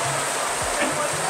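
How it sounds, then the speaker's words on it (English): Steady broadband hiss of rain pouring down, continuous and fairly loud, with low rumbling in the background. "I'm definitely getting rained on."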